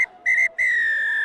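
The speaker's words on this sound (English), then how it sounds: "Final whistle goes" A referee blows the final whistle at a women's rugby match between Kenya and Uganda: two short shrill blasts followed by one long loud blast, close and clear.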